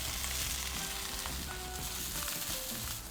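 Green chilies and small onions fry in oil in a pan for a Tamil Nadu style curry leaves chicken, a dense, close, steady sizzle with light stirring.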